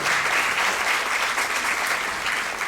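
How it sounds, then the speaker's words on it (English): Applause from an audience at a stage event, a steady, full wash of many hands clapping that carries evenly throughout without speech over it. "Please give them a big round of applause."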